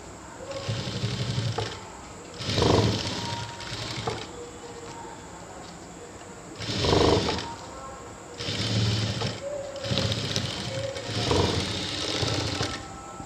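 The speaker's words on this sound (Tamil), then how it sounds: "பாட்டத்தில் ஒரு தையல் ஓட்டணும்." A sewing machine stitches the bottom seam of a natural jute bag, running in several bursts of steady rapid whirring with short pauses between them, close up, with quiet talk faintly in the background.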